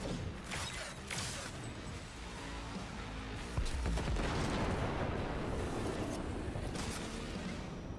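Sustained gunfire rattles through a Cyberpunk 2077 firefight, a dense, continuous burst of shots and impacts that grows slightly louder midway, with no pauses over several seconds.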